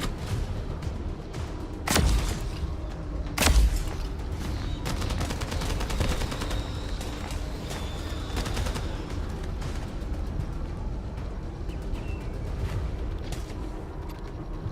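Battle rifle fire in a video game, two loud sharp shots standing out over a constant busy din of clanks and mechanical noise, no talk.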